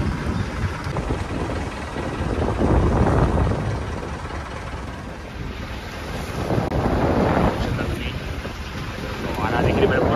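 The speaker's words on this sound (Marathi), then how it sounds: "डोली केसाला जमत नाही एवढा वारा आहे मित्रांनो" Strong wind at sea buffets a fishing boat, a rough, gusting roar that swells and dips in waves over the whole stretch, blending with water wash and creaks from the boat.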